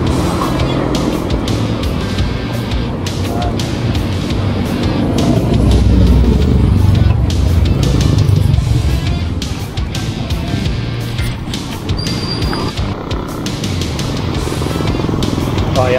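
Steady morning traffic on Aquino Bridge in Tarlac City, cars, trucks and motorcycles rumbling past close by in a continuous loud drone, engines swelling midway, heard from a bicycle.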